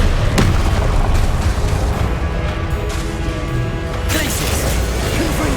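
Incendio fire spell cast in the Hogwarts Legacy video game, a loud whooshing burst with booming crackle that fills the clip over dense game noise and music, with a sharp impact near the start and another flare near the end.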